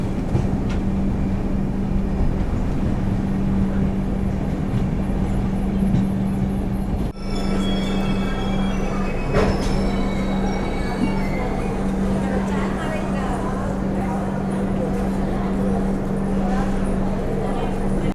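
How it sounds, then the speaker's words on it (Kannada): The Yesvanpur Express (16572) pulls into Vikarabad Junction, its steady rumble and rolling wagons heard close and loud, with a sharp metallic clank partway through and a continuous low hum under the whole passage. "ನಮ್ಮ ಟ್ರೈನ್ ಬಂದಿದೆ ಇವಾಗ ವಿಕಾರಾಬಾದ್ ಜಂಕ್ಷನ್"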